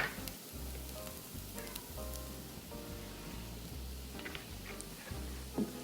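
Oil sizzles and crackles steadily in a pan as onions fry for Polish bigos hunter's stew, a close, continuous frying hiss with no talk over it.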